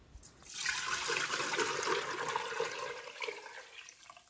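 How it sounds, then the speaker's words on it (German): Elderflower syrup liquid pours from a container back into a cooking pot, a steady close splashing gush lasting a few seconds before tapering off, with no voices over it. "Anschließend gießen wir die Flüssigkeit wieder zurück in den Topf,"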